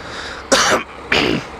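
Two rough, close throat-clearing bursts, each about a quarter second long, separated by a short pause.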